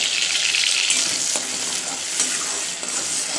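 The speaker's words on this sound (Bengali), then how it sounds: "এবার মশলাটা দিয়ে দিই। মশলাটা ভালো করে কষিয়ে মাছগুলো দিয়ে দেবো।" Spice paste sizzling and frying in hot oil in a pan with black cumin seeds for a Bengali prawn dish, a steady loud crackle with occasional stirring scrapes throughout.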